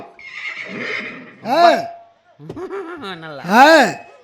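A horse neighs loudly twice, each whinny a shaky, rising-then-falling call, with a short snort and breathy sounds between them, close to the listener.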